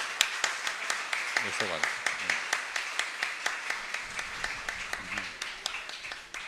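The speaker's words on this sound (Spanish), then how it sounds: "un aplauso para estas madres" Congregation at a Sunday church service clapping for the mothers, sharp claps in a steady rhythmic beat throughout, with a voice speaking briefly over them.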